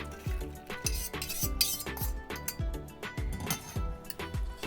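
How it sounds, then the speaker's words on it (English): A metal spoon repeatedly scrapes and taps through a sieve as cooked toor dal for Gujarati dal is pushed into a pot below, a quick rhythmic series of close clinks and scrapes with no talking. "I'm going to put my sieve on top, and I'm actually going to sieve the dal directly into here"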